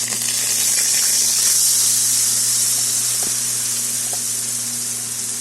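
Yardlong bean paste hits a hot pan and sizzles, a steady bright hiss of frying that holds level throughout with a faint steady hum underneath and a few small clicks.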